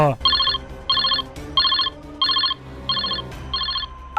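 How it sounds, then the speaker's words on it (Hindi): An electronic telephone rings in six evenly spaced bursts of bright warbling trills, loud and close, with a low background hum between rings. "अरे अभिजीत एक काम करो, तुम ही चले जाओ फोन उठाने, नहीं तो फोन कट जाएगा।"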